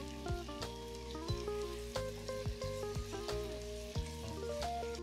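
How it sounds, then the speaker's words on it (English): Onions, carrots, herbs and bacon sizzling in a pot, a steady crackling fry with a string of metal spoon clinks and scrapes, no voice present. "so we've got our onions, our carrots, our herbs, and our bacon in there"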